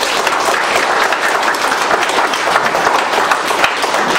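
A large crowd at an outdoor press conference claps continuously, a loud, dense and even roar of applause with no break.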